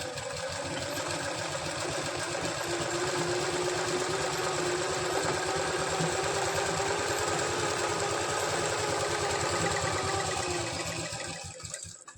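A sewing machine stitching along a fabric cord, a close, steady, fast mechanical whir with rapid rhythmic clatter running continuously before slowing and stopping at the end.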